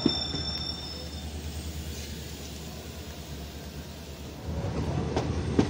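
Onboard the Nandigram Express pulling out of Lasur station, a steady rumble of rolling wheels and carriage noise fills the scene, with faint squeals and a slight swell in loudness toward the end.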